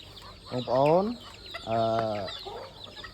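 Chickens on a rooster farm cluck nearby in the hot season, two drawn-out calls standing out over faint background noise.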